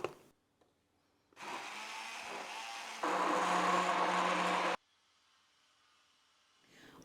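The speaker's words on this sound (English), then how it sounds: "And I'll just blend it." A countertop blender whirs TVP pancake batter made with unsweetened soy milk. It runs for about three seconds, then jumps to a louder, harsher speed for nearly two more before cutting off abruptly.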